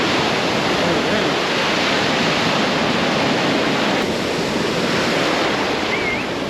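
Ocean surf breaks at Isla Verde Beach in San Juan, Puerto Rico, a loud, dense roar of crashing waves that washes continuously with wind buffeting the camera microphone.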